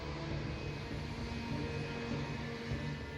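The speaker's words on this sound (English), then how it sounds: "Haneda Airport Tower gives JAL 123 the all clear to take off." A Boeing 747 airliner roars down the runway on takeoff, a broad, steady jet-engine rumble that holds at an even level throughout with no voices.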